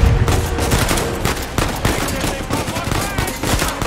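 Rapid machine gun bursts in the video game Uncharted 4, loud and dense with continuous rattling shots layered over game ambience throughout.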